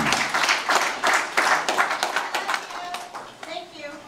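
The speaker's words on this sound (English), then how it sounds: "I want to please give everybody here a round of applause." A concert crowd at The Raz in Hutchinson, Kansas claps and cheers for a show, loud at first and then thinning out, with a voice speaking briefly near the end.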